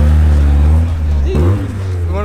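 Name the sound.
vintage BMW E30 cars rolling by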